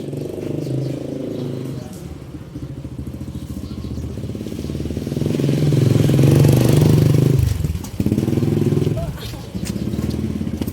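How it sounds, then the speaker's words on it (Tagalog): Motorcycle engines rumble past nearby, swelling louder then fading, with a voice talking over the traffic noise. "dumadaan po kasi mga motor"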